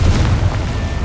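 Confringo fire spell explosion in the game Hogwarts Legacy, a short, loud, deep boom with a rumbling low-end tail filling the whole moment.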